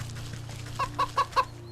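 Four quick evenly spaced clucks from a pheasant in the video game Wytchwood, clear and close over a low steady musical hum.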